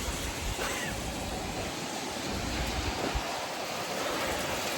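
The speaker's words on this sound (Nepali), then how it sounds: "पानी पनि खतरो पऱ्यो" Heavy rain pours steadily on a cold day, a dense, continuous hiss with no pauses and no voices.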